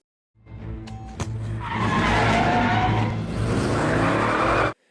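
A car turns around sharply with a loud, sustained tire skid and squeal under engine noise, close and intense for several seconds before cutting off abruptly.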